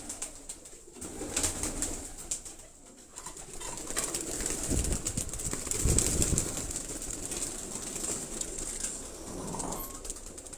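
Pigeons coo steadily in caged lofts with food set out for each bird, a continuous murmur of soft calls and occasional rustling over a gentle background hum, with no speech.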